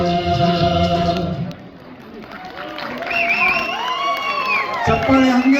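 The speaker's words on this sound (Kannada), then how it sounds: "ಚಪ್ಪಾಳೆ ಹಂಗೆ ಬರ್ತಿರ್ಲಿ" An audience at a ramp walk event claps and cheers in a dense, loud burst that dips briefly and then swells again, with whoops and shouting voices mixed in.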